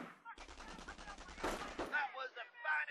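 Burst of rapid gunfire from a Company of Heroes battle on the Semois map, several sustained rounds with a sharp loud peak midway, then trailing battle noise and faint chatter.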